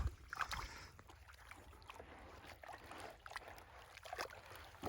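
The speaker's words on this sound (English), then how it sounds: "let me take my concentrates and go over to the panning tub and pan these out" Gold concentrates from a puffer-style dry washer being panned in a water tub outdoors: irregular sloshing, splashing and swirling water with gritty trickles, close and moderately loud, no talking.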